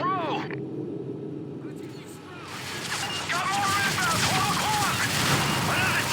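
An explosion in a Call of Duty: Modern Warfare 3 match booms amid steady gunfire and battle noise, followed by a continuous rumble with someone talking over it.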